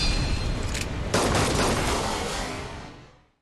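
Isshin the Sword Saint fires a gun in Sekiro: Shadows Die Twice, a dense roaring volley of shots that swells sharply after a second and then fades away to silence.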